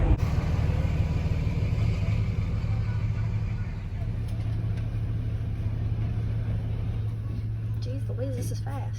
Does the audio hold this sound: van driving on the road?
yes